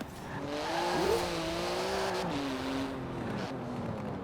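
A 700-horsepower sports car with a 3.8-litre twin-turbo flat-six engine drives along, its engine note rising and falling steadily over continuous road and tyre noise, heard from inside the car.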